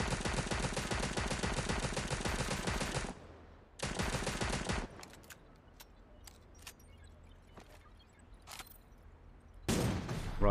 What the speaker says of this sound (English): Someone behind me as well shooting.